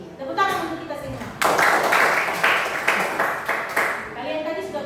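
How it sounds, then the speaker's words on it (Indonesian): Students in a mathematics classroom break into a burst of group clapping lasting about three seconds, with a teacher's voice speaking just before and after. "Tepuk tangan untuk kita semua."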